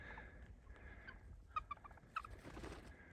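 Ptarmigan on a high mountain peak giving a few short clucking, gobbling calls, faint and somewhat distant over wind noise.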